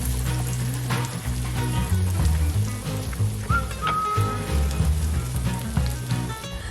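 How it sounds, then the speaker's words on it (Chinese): Sliced garlic fries in melted butter with browned mushrooms in a skillet, a continuous, close crackling sizzle under steady background music. "再来加入蒜头片并煎至金黄色。"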